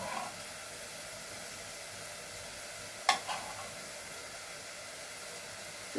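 Hilsa fish frying in a hot pan, a faint steady sizzle with one brief clatter partway through, no talking.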